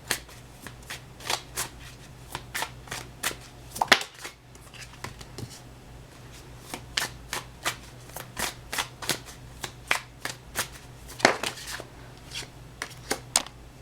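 Rapid crisp riffling of tarot cards, repeated in quick bursts with short pauses between, close and fairly loud with no talking.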